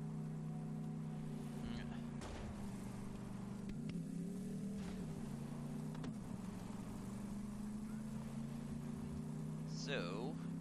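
A vehicle engine in Borderlands 3 hums with a steady low drone throughout, rising slightly as it revs, with brief clanks and a chirpy effect near the end; someone talks over it.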